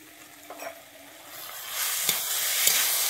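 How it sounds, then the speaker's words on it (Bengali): Ground spice paste hitting hot oil in a pan for a Bengali banana-stem ghonto: a quiet start swells into a bright, rising sizzle, punctuated by a few light utensil taps, close up. "আমি এর মধ্যে দিয়ে দিচ্ছি এবারে বেটে রাখা মশলাটা।"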